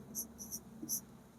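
Marker or chalk on a board during a maths lesson: three short, faint squeaky strokes in quick succession over a quiet room hum.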